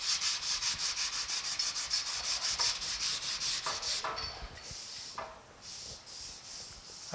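Steady back-and-forth strokes of a sanding block over body filler on a 1950 Chevy truck, rhythmic and close for about four seconds, then slowing into a few scattered rubs.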